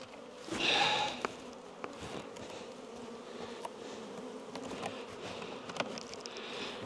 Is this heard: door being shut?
no